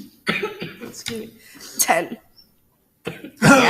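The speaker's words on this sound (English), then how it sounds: "smoker's cough over here" A few sharp, harsh coughs between stretches of people talking, with a short silence before a final loud cough burst.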